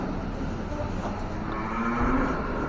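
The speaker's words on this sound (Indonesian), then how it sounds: "ini merupakan sapi perah ya," Dairy cows being fed in a large barn herd of around two hundred moo over a constant, noisy background, with one long, drawn-out moo rising clearly near the end.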